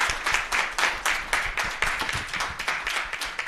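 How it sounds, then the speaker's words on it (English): Audience applause at a South African media panel event, a steady dense patter of many hands clapping, moderately loud and continuous with no talk over it. "a round of applause for everyone who was involved"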